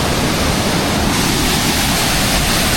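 Huay Kaew waterfall near Chiang Mai, heard from right at its base: a loud, steady roar of falling water with broadband rushing noise and no voices.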